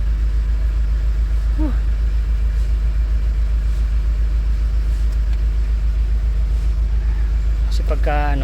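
A car engine idles with its air conditioner running, giving a steady, loud low drone throughout, with brief faint voices near the start and end.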